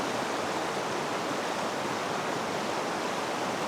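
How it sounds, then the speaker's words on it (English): Steady, broadband rush of a river flowing over rocks past big boulders in a narrow stretch of Remutaka Forest Park, New Zealand, close and constant with no talk. "wider part of the river, some slower moving water"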